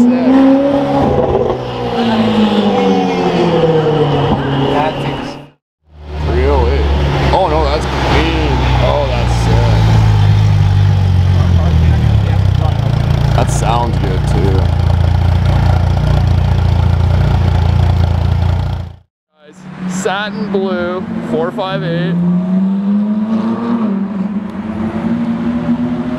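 A Ferrari 812 and a red Ferrari 458 with dual straight-piped exhausts roar past in loud, raspy bursts, with brief near-silent gaps between the passes.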